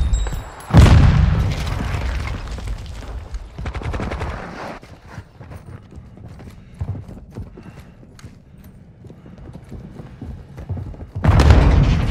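Artillery explosions in a video game: several loud, close booms with sharp onsets, the first big blast near the start and another at the end, separated by rumbling debris and scattered crackle.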